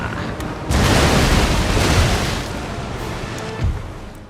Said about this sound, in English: Oh, what a shot. There's only one cannon,